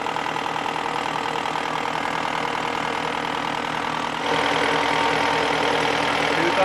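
A boat engine runs steadily at about 1800 RPM, a loud, even mechanical drone with a rhythmic knocking pulse and a slight step up in level partway through.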